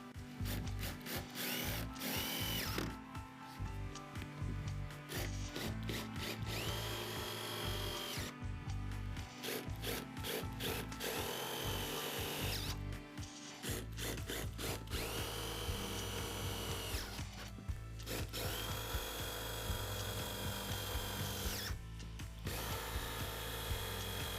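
A power drill drives galvanized self-tapping screws with wide heads into corrugated roofing sheet, whining in repeated loud bursts with brief pauses between screws, close by and continuous over the whole stretch.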